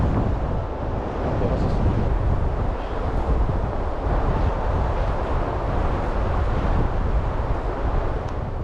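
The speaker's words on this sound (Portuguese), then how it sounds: "Ou escuto como o som da areia levantado pelo vento" Steady wind sweeps sand across an empty beach, a loud, unbroken broadband rush with slight gusting and no break throughout.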